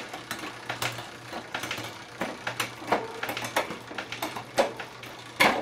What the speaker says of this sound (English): Work our way down the gears quickly.